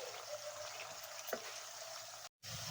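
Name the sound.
onions frying slowly in oil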